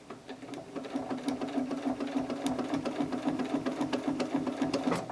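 Sewing machine stitching during free motion quilting, a rapid, steady needle chatter close by with a constant motor hum and faint irregular clicks, no talking.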